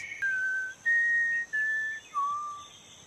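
A lone person whistles a short tune of clear, sustained notes, a few long tones with brief gaps, quiet and close with no talking.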